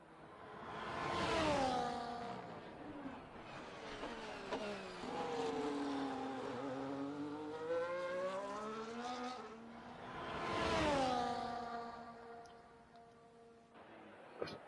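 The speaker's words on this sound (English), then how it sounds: "We've got Ferrari coming out of the pits." Ferrari race car engines in a sim racing event at Abu Dhabi, loud revving that climbs and falls through gear changes, with two close passes surging up and fading, and no talk.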